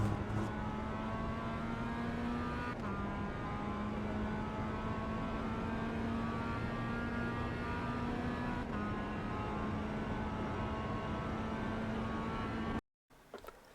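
Mazda MX-5 race car lapping the Snetterton 200 circuit in iRacing, its engine droning steadily at high revs with a couple of gear-change dips, heard from onboard and ending in a sudden cut to silence.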